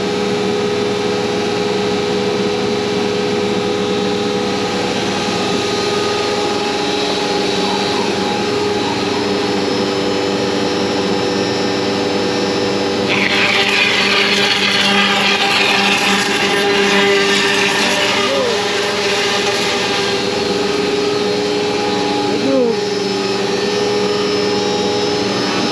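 A ShopBot CNC router cuts an OSB part with a loud, continuous mechanical whine and hiss from the spindle and vacuum, the pitch shifting slightly as the bit moves through the board.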